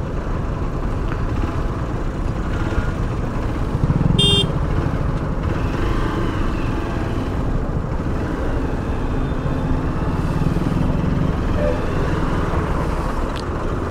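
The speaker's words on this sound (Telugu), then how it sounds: "ఫుల్ ట్రాఫిక్ జామ్ అయింది ఎందుకో తెలియదు" A traffic jam on a road in Telangana with cars and motorcycles idling and creeping forward, making a continuous engine drone. A single honk cuts in near the start, and voices are heard faintly under the noise.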